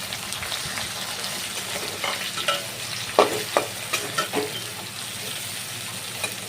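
Garlic paste sizzling in a pan as a spoon stirs and scrapes it, the start of a chicken curry, with a steady frying hiss and several close, distinct stirring scrapes.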